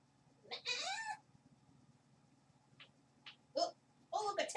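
A cat meows several times nearby, a drawn-out meow followed after a pause by shorter chirping calls and another meow, with soft rustling between them.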